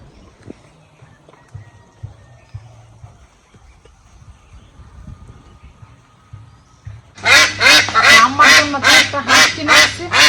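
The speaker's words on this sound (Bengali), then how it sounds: "এখানে তিন হচ্ছে মেয়ে হাঁস আর একটা হচ্ছে ছেলে হাঁস" A small flock of domestic ducks, three females and one male, bursts into loud, close, rapidly repeated quacking for the last few seconds, after a quiet stretch of faint rustling and background noise.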